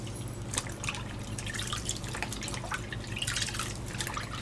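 Water rinsing a silicone baby doll in a tub, soft splashing and trickling with drips, quiet and close, without talk.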